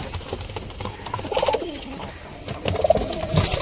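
Several pigeons, including mixed domestic breeds kept in a home loft, coo in low soft bursts close by, with a steady background hiss and occasional rustling.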